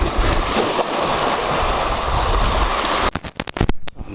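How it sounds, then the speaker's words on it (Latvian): Sea waves wash onto the beach at Hua Hin, Thailand, in a steady, loud rushing surge mixed with wind, ending in a few sharp bursts of wind buffeting the microphone. "Tad nedaudz tālāk tur jūra, tā plūsta."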